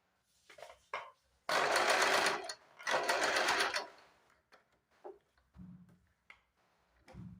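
A sewing machine stitches a lined blouse in two sustained bursts of rapid whirring, with short taps and handling clicks before and after.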